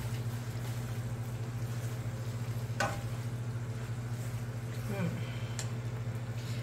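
Thai drunken noodles with shrimp stir-fry in a hot pan, giving a steady low sizzle over a constant background hum, with a couple of brief scraping stirs.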